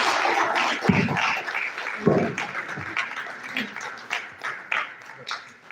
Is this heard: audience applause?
yes